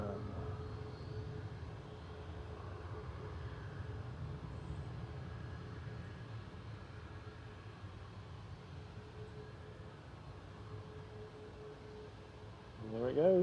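A Ryanair Boeing 737 Max 8200 departing Manchester Airport gives a faint, steady distant engine rumble and drone that holds evenly, swelling slightly louder right at the end.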